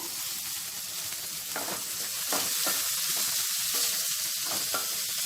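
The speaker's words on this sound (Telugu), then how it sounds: "వేసుకొని వీటిని కొద్దిసేపు ఫ్రై చేసుకోవాలి" Capsicum, mixed vegetables and curry leaves fry in a pan for a Maggi masala dish, giving a steady, close sizzle with faint stirring clicks throughout and no talking.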